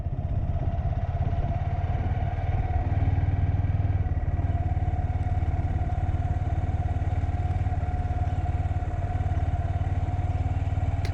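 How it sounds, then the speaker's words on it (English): Honda Grom ABS motorcycle ridden along a road, its small engine humming steadily and loudly with constant road and wind rumble, no voices over it. "my first day of riding my new Honda Grom"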